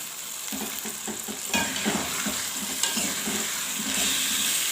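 Biryani masala with potatoes and peas frying in a pan while being stirred, a continuous close sizzle broken by repeated scraping strokes of a spoon against the pan, no voices.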